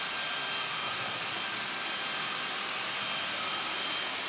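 A MUZILI rechargeable cordless multi vacuum cleaner runs with a constant, even high-pitched whir and airy rush, steady and unbroken throughout, close by with no voices.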